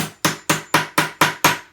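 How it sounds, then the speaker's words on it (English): A hammer strikes a metal grommet on fabric seven times in quick, even succession. Each sharp blow is loud and close, with nothing else heard between the strikes. "I'm going to grab my hammer and just"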